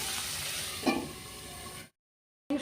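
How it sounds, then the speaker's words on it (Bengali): Fish frying in hot oil in a pan gives a steady close sizzle, with a brief stirring clatter partway through. The sizzle cuts out abruptly to silence, then returns for a moment. "এই মাছটা আমি ভেজে তুলে নিচ্ছি।"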